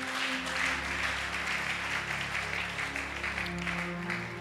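A church congregation claps together in sustained applause, a dense, steady patter of many hands at moderate distance with faint voices mixed in.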